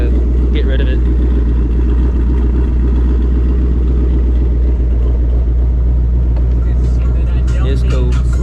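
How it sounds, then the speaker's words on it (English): A Mustang GT with stock manifolds, catalytic converters removed and a Steeda H-pipe with active exhaust burbles at a low, steady rumble from close by, loud and continuous, with light clatter on top. "With the stock manifolds, cats removed, Steeda H pipe with the active exhaust, don't sound too bad."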